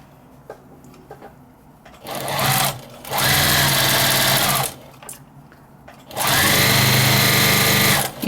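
Sewing machine stitching a long strip of flannel bib ties in two sustained bursts, close and loud, with short pauses and quiet handling between runs.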